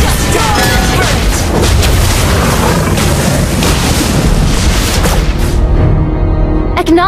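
A turret is destroyed in the Mobile Legends video game: a loud, booming explosion with a rumbling low-end roar that rolls on for several seconds, then fades, while in-game sounds flicker at the end.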